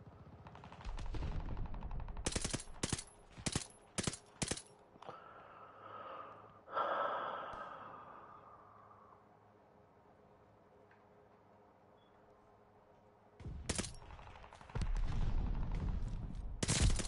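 Bursts of gunfire from the video game Call of Duty: Vanguard, with several rapid volleys at the start, a lull with heavy breathing, then sustained loud shooting toward the end.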